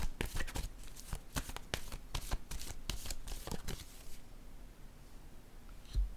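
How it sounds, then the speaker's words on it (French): Tarot-style playing cards handled on a table, with a quick run of crisp flicking and slapping card sounds that thins out into a quieter rustle and ends on a single soft tap, close up, with no talking. "Je vais déposer une autre carte."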